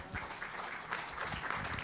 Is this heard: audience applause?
yes